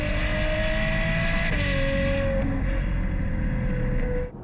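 Heard from inside the cabin, a Novitec-tuned Ferrari 812 V12 holds a loud, steady high-pitched engine and exhaust drone, its tone dipping slightly partway through before easing off at the end.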